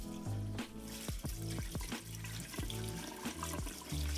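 Tap water splashes and gurgles into a sink with uneven pulses as burdock root is drained and rinsed of vinegar under the running stream.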